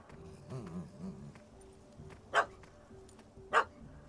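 A puppy in The Witcher 3: Hearts of Stone gives two sharp, separate barks amid quiet game ambience, with faint low whimpering or murmuring beforehand.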